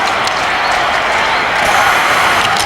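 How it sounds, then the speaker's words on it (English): A hockey arena crowd at a New York Rangers versus Buffalo Sabres game roars and applauds in a broad, steady wash of cheering, loud and continuous throughout. "The crowd alive now."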